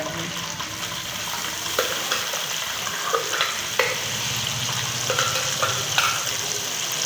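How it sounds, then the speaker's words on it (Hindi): An onion and tomato paste sizzles steadily in a pan while chicken qorma is cooked, with the spoon scraping and stirring in brief irregular strokes over the continuous frying hiss. "इसमें अब इसमें प्याज टमाटर का पेस्ट ऐड कर देंगे।"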